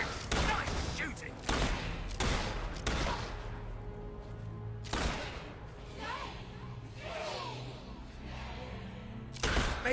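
Heavy gunfire bursts from the video game Fable 3 in a chaotic battle, several loud booming volleys spread across the moment, with game music and character voices underneath.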